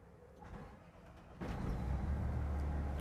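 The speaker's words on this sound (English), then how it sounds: "Nothing like the sound of the diesel engine purr." A diesel engine in a 2023 Newmar London Aire 4551 motorhome starts up. Low idle noise runs first, then the level jumps about halfway through into a steady, deeper rumble that carries to the end.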